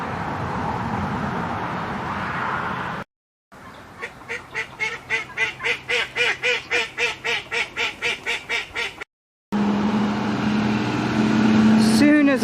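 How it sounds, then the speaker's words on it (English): Duck quacking in a garden, a loud burst of about a dozen rapid rhythmic quacks close by, set between brief spells of other outdoor sound. "she started quacking again"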